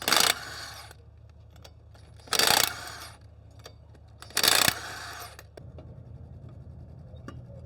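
Metal tools and wheel hardware clink and ratchet while wheels are swapped on a burnout competition car, with three loud bursts of clattering against a quieter mechanical background in between.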